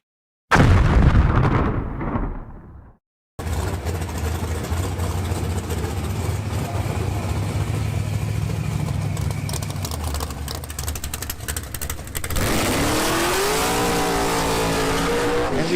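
Drag racing cars at a Wednesday race event roar loudly down the strip: a burst of engine noise, a brief gap, then a long sustained high-revving roar, with a pitch-shifting engine whine near the end.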